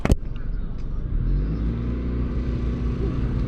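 A Wuji SR450X motorcycle engine idles at low revs, around a thousand rpm, a steady close rumble that follows a sharp knock at the start.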